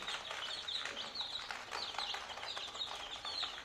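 Young chickens at a poultry exhibition scuffle and cluck in a continuous, busy chatter of fairly close, high-pitched bird calls.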